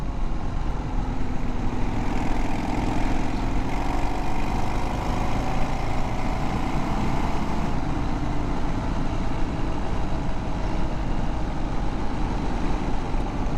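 A Harley Sportster Scrambler motorcycle ridden on a dirt road, giving a continuous loud engine drone blended with rushing wind noise, steady throughout with no speech.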